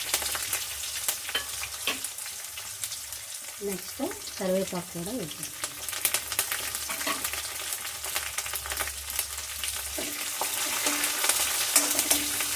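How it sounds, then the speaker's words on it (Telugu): Steady crackling sizzle of tempering spices and garlic frying in hot oil for gongura fry, with a brief stretch of speech partway through and stirring scrapes throughout. "బాగా వేయించుకుందాం"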